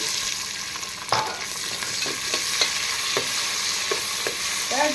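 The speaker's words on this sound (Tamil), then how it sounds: "நெய் கொஞ்சம் ஊற்றிக்கலாம். இப்போ வெங்காயம் போட்டுக்கலாம்." Onions sizzling steadily in hot ghee for mutton biryani, a dense crackling hiss with occasional sharper spoon-scrape knocks against the pan, close and fairly loud, no voices.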